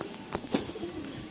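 A green pigeon offered for sale calls in a short, soft coo, faint and close against low background hiss.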